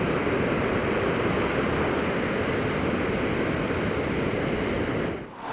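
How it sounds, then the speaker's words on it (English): Water pours over a river weir at Tewkesbury on the Severn in a continuous loud rushing roar. It stays steady throughout and dips briefly at the very end, with no voices. "there's a closer look at that very picturesque weir."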